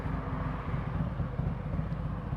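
A Harley-Davidson Street Glide ST with its 117 engine rumbles steadily at idle, a deep, even low-end throb that holds level and alone throughout the short stretch.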